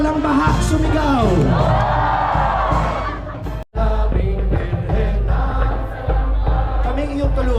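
A large crowd at the Obando fiesta for Nuestra Señora de Salambao shouts and cheers loudly in unison, a sustained roar with whoops that cuts out briefly near the middle before swelling again.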